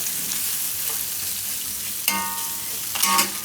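Ingredients roasting in oil in a pan on low gas, a steady gentle sizzle with a couple of sharper scrapes or clinks near the end, close and without talking.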